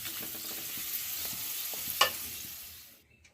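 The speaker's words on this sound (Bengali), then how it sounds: "গরম তেলে ভেজে নিচ্ছি।" Sago papads fry in a wok of hot oil with a steady, busy sizzle and faint stirring clinks, one sharper crackle near the middle, before the sound cuts off abruptly near the end.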